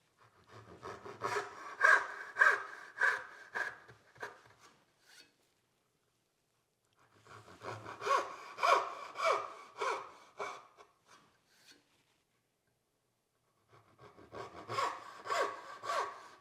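A hand saw cuts dovetails in wood in three bursts of rhythmic rasping strokes, close and clear, separated by short pauses.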